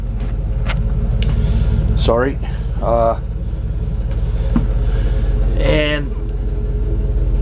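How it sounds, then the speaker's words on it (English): A small Hollingsworth air compressor engine, dated October 1966 and fitted with a new muffler, runs loudly with a steady low rumbling thrum throughout, while someone talks briefly over it. "So this little engine is pretty loud."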